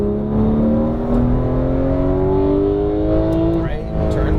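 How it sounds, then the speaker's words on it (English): Porsche 911 GT3 of the 991 generation at full throttle on a track, its engine note rising steadily and loud, close up from inside the car, with a driving instructor talking over it. "Full throttle, right side."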